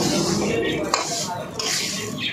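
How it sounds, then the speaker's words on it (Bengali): Raw rice going into a cooking pot for pulao and being stirred with a utensil, with scraping clinks against the metal and a soft rustling of grains over a steady kitchen background. "এবার দেবো এতে চালটা। একটু ভালো করে কষাবো।"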